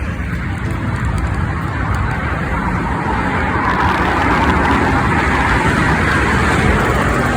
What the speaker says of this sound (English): Oh my God, you can hear the traffic.